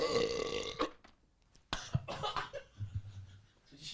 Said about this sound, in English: I've never heard you burp that long.